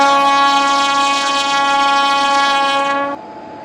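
A train horn sounds loud and close at a railway station platform, one long sustained blast that cuts off abruptly near the end, leaving a quieter tone.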